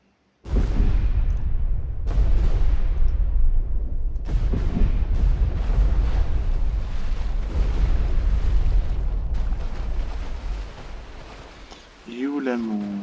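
Depth charge explosions in the naval game Destroyer: The U-Boat Hunter: several deep, heavy booms in sequence, each with a long rumbling tail, loud and close, with a voice briefly at the end.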